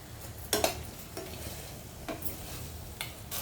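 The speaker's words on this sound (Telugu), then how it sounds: "ఇవన్నీ కొంచెం దగ్గరగా బాగా ఫ్రై చేసేసుకుని" Carrot and spice masala cooking in a pan for a carrot and chana dal curry, a quiet frying hiss with a few sharp stirring scrapes and clinks spaced through it.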